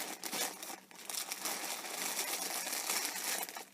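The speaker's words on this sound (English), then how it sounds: "excuse the rustling." Plastic packaging crinkles and rustles continuously and close-up as a yarn haul is unpacked, with no voices.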